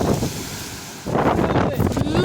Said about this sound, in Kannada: ಯಾವ ರೇಂಜಿಗೆ ಗಾಳಿ ಇದೆ ಅಂತ.